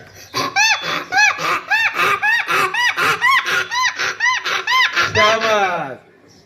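A first- or second-grade pupil imitates a donkey braying, with a long run of rhythmic hee-haw cries, loud and close, ending in a final drawn-out bray.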